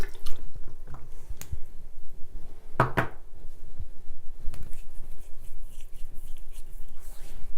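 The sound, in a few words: water wetting arm to remove eyeshadow swatches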